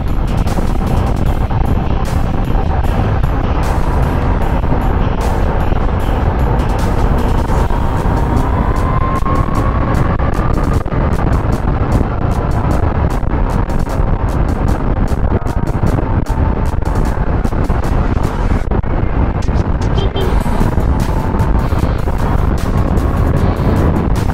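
A 2020 Kawasaki Z H2 motorcycle engine at speed on an expressway, a loud continuous roar mixed with heavy wind rush, with slowly rising and falling engine pitch throughout.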